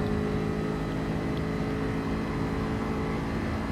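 Race car engine in a driving game at the Goodwood circuit, a steady, droning, mid-loud whine with a constant pitch and no clear revving or shifts.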